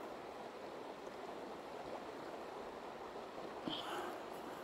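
River water flowing beneath a person standing over it, a steady soft broadband rush, faint and continuous with a small splash or knock near the end.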